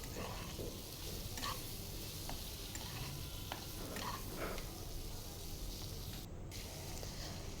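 Puti fish frying lightly in oil with turmeric, chili powder and salt, a steady close sizzle with occasional stirring scrapes running throughout without pause.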